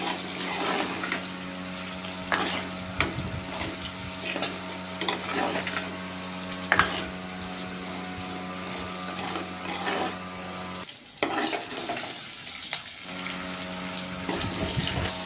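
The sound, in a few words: turmeric powder being sautéed in a pan for pickle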